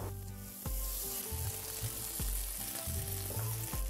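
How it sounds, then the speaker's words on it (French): Olive oil and a knob of butter sizzling in a hot tagine on the heat, a steady crackling fry with low tonal hum and rhythmic bumps throughout, close and continuous. "Un tagine bien chaud sur le feu, de l'huile d'olive et une noix de beurre."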